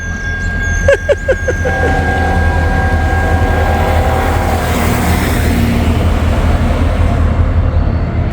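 A CSX freight train approaches a road crossing, a steady low rumble that fills the scene, with a brief stuttering horn-like tone near the start and a continuous background drone throughout.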